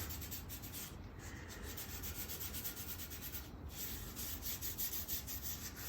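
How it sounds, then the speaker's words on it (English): A fingertip rubbing Tru-Oil finish into a wooden surface, producing a steady close rhythmic swishing friction with repeated back-and-forth strokes and no talking. "I just put some on my finger and rub it in"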